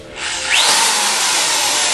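A power drill bores steadily into material with a loud, continuous high whine that spins up quickly and holds at full speed, close up and alone.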